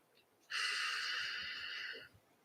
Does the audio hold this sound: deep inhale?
yes